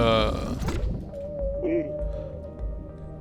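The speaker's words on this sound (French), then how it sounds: "c'est le son de la bébé baleine à brosse" A baby whale cries in the underwater video game Dave the Diver, a faint long wavering moan with a short chirping call, under game noise and low thumps, while a voice talks over it.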